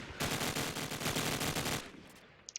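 Automatic gunfire through a wall in Call of Duty 4, a rapid burst of about a dozen evenly spaced shots, loud and close, ending with a couple of small clicks.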